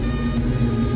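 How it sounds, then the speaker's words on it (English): A Jeep engine, likely a ZJ or XJ, is revved, a steady low rumble holding at a constant loud level for a moment with no break and no voices. "Give it a rev."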